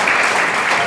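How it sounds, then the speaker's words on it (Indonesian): A church congregation at GBI Marina Plaza in Manado claps in a brief, dense burst of applause during a sermon, loud and close, with no voices over it. "Beri tepuk tangan kemuliaan buat Tuhan"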